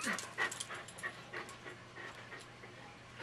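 A dog pants heavily in quick, rhythmic breaths, close and fairly quiet, with no one talking.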